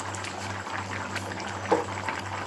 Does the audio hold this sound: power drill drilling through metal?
no